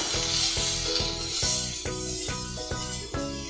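Capsicum sizzles and fries in a hot pan for a capsicum masala poriyal, a steady hiss broken by regular scraping stirs of a spatula against the pan, close and alone.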